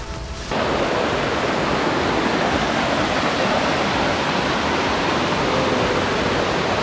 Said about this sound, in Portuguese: Rio Cari, uma cachoeira simples.